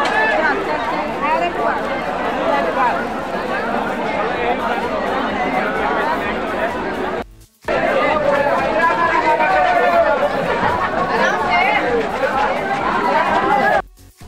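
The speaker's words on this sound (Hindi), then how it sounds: "पंडाल में इतना ज़्यादा भीड़ लग चुका है।" A dense crowd packed into a Durga Puja pandal in Sasaram during Navratri chatters continuously, a loud babble of many overlapping voices with a brief dropout in the middle.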